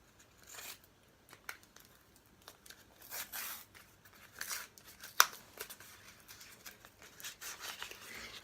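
Quiet rustling and crinkling with short tearing rips and one sharp snap, close up, as packaging is pulled apart by hand.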